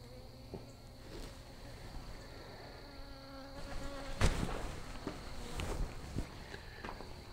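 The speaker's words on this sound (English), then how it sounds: "And there goes the guard bee back." Honey bees buzz faintly around a small swarm outdoors, a thin continuous drone with a few closer passes and soft rustling or footsteps nearby.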